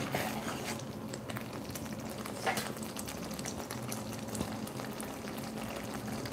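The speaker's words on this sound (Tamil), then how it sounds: "வேர்க்கடலை மசாலாலாம் நல்லா கொதிச்சிச்சு." A pot of peanut masala boils with a steady, soft bubbling and crackle, a continuous close simmer with no voices.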